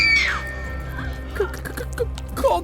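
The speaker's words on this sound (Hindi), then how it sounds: "मगर जैसे ही वो शख्स निधि की तरफ मुड़ा तो निधि जोर से चीख पड़ी" A woman's sharp, high scream opens a horror-story scene, a brief piercing shriek that quickly fades into quieter, murky sounds and a low ambient drone.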